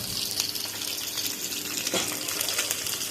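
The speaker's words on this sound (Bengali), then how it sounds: "এবার আমি এই সর্ষেটা একটু জল দিয়ে গুলে নেব" Steady running water gushes and splashes throughout as water is added to mustard paste for a fish curry of pabda, a close, continuous flow with no voices.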